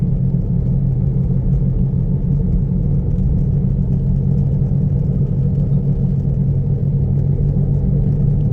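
A Swift Dzire with a faulty wheel bearing makes a constant low grinding rumble while driving, a dense steady drone under road noise that never lets up; no talking.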